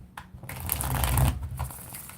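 Tarot cards shuffled by hand in a riffle that runs for about two seconds, close and fairly loud, a dense papery flutter with no talking.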